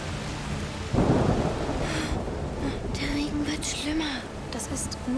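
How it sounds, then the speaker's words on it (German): Thunderstorm in A Plague Tale: Requiem: steady rain hiss with a deep rumble of thunder rolling in, low and sustained, while voices speak softly over the storm. "ist nur ein Sturm."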